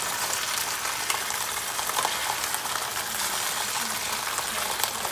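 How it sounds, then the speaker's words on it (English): Oxtails searing in a Ninja Foodi pressure cooker give off a steady, close sizzle and crackle with a broad hiss that holds level throughout. "It's a good browning we're getting on these oxtails."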